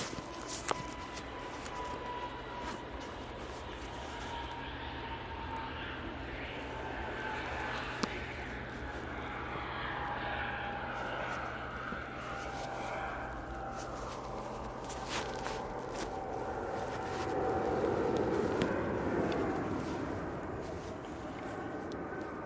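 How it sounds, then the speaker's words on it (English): An EasyJet Airbus A320neo jet on its takeoff roll at Manchester Airport, a steady distant engine roar that swells gradually toward the end, heard outdoors against faint background noise. "EasyJet A320neo on the roll"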